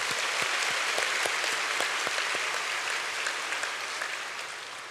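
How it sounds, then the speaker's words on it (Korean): Applause for the children at a special early-morning New Year prayer service in a Korean church: a dense congregation claps loudly and continuously, the sound thinning slightly toward the end. "우리 앞에 있는 우리 아이들을 위해서도 박수 한번 치겠습니다"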